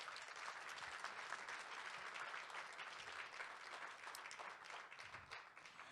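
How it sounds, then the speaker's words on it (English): Audience applause at a speech event, a dense, steady clapping that fills the whole stretch at even strength with no voices over it. "Can we give them all a round of applause?"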